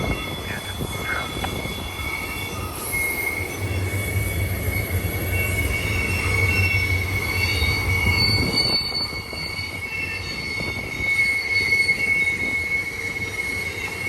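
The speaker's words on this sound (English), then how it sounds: "This train is on main track number 2, eastbound." An eastbound BNSF Warbonnet intermodal freight train rounds Sullivan's Curve on main track 2, wheels squealing loudly and continuously with a steady rumble of passing cars close by.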